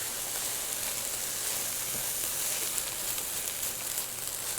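Rice and vegetables toast and sizzle in a hot pan on the stove, giving a steady, close hiss of frying with no talk.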